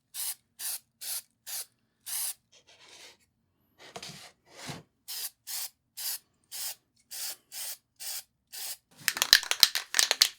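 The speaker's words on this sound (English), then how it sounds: "Now we're going to prime it." Repeated short bursts of spray primer hiss onto a sanded, washed aluminum casting for a vintage carnival ride, about a dozen even pulses with brief pauses, a few softer rustles midway, then a rougher, denser burst at the end.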